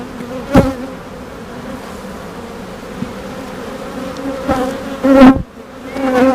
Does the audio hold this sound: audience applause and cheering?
no